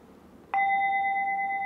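A single bell is struck once and rings on with a clear, steady, sustained tone that holds without fading, close and prominent over faint background hiss.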